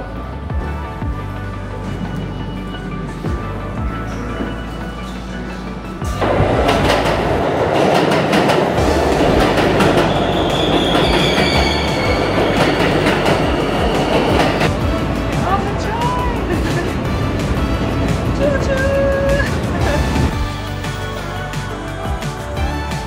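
A New York train running on rails, a loud, steady rumble with rattling and clatter that swells partway through, brief squeals and tones over the top, and faint talk in the background.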